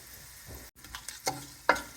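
Olives sautéing in hot oil with garlic, bay leaves and chili peppers, giving a low steady sizzle broken by a few sharp clatters of stirring, close and fairly quiet.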